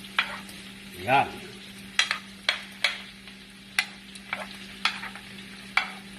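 Hotdog pieces fried and stirred in a pan for pork menudo: a steady sizzle broken by repeated scraping clacks of the spatula, close up, with a brief voice in the background.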